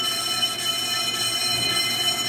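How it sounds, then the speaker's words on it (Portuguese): An electric-motor brake disc lathe turns a Jeep Renegade brake disc, giving a steady mechanical whir with high tonal whines and a faint metallic scraping, close and continuous with no speech. "aqui vai rodando aqui, ó, tem um motorzinho elétrico, vai rodando ali o eixo"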